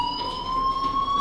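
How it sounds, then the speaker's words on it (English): A fire alarm blares inside the video game Life Is Strange as a steady, unbroken electronic tone with sharp high overtones. It runs continuously and loud for the whole moment, with no voices over it. "do you hear that fire alarm?"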